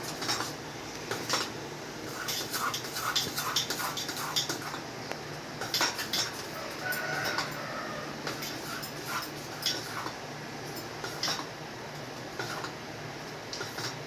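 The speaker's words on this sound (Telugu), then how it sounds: "కలిపేలాగా ఒక చేయి కానీ స్పూన్ కానీ ఇలా మనం పెట్టేసి బాగా సాల్ట్ పిండి మిక్సింగ్ అయినట్టుగా కలుపుదాం ఒకసారి" Salted dosa batter made with ration rice is stirred by hand or spoon, giving quick wet scrapes and light metallic clinks against the vessel in irregular bursts, close up over a steady background hum, with a dog whimpering faintly.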